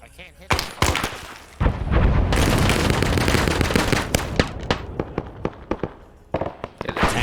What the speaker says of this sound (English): Did the tank just randomly fire?